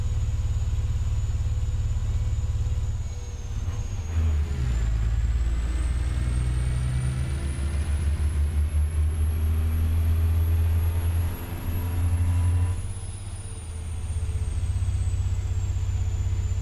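Modded truck engine in American Truck Simulator, a loud continuous low diesel rumble that shifts pitch as it works through gears, with a high whine sweeping above, steady throughout without talk.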